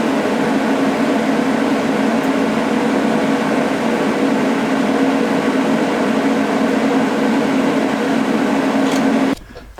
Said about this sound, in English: let's weld this up